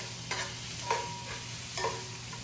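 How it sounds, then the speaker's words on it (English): Shrimp and Big Fork bacon sausage sizzle steadily in a hot pan, with a few brief scraping stirs breaking through the constant frying hiss. "Shrimp is still cooking. The bacon sausage is adding some nice good flavor to it."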